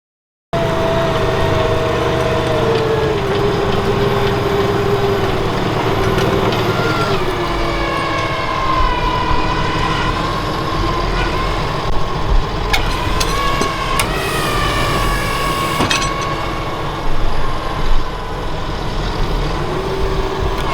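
A tractor engine runs steadily while ploughing a field, a continuous droning rumble with shifting whine tones, loud and close throughout with no talk.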